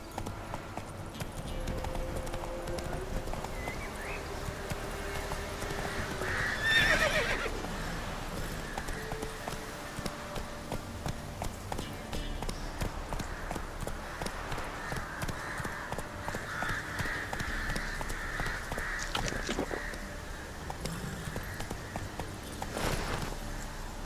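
Horse hooves clip-clop steadily in The Witcher 3 video game, a ridden horse trotting along with occasional neighs and whinnies, fairly close and continuous amid game ambience, with a brief louder burst midway.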